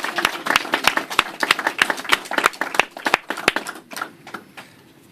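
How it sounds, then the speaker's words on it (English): Applause for Bess and the activists at a New York mayoral press event, a sparse crowd clapping in sharp, distinct close claps that thin out and fade toward the end. "let's give Bess and all the activists a great round of applause"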